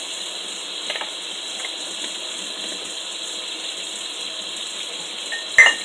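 A kitchen sink tap runs steadily as dishes are rinsed, giving a continuous close hiss of water with a brief clatter right at the end.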